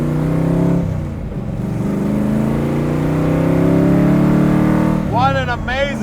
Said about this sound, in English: here we go for riding the Daytona Coupe.